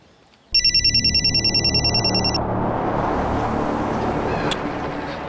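A telephone rings with a rapid electronic trill for about two seconds, cutting in sharply over a low background and then giving way to a rising, rushing noise.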